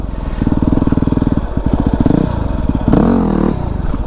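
A Yamaha WR250R dirt bike engine chugs at low revs and then revs up in short throttle blips during a slow wheelie attempt, loud and close with a pulsing, uneven beat.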